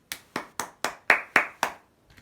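Seven crisp, evenly spaced hand claps ring out close and fairly loud, each sharp and quickly decaying, followed by a faint trailing rustle.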